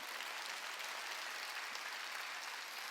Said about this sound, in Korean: 귀가 있는 자 깨달은 사람만 박수 치세요.